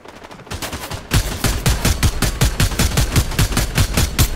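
Automatic gunfire in Fortnite: a steady rapid burst of loud, evenly spaced shots rattles on for several seconds, close and continuous, after a brief quieter opening.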